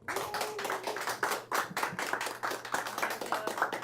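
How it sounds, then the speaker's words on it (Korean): An audience claps continuously, a dense burst of applause from many hands, fairly close, with no voices. "큰 박수로 모시겠습니다"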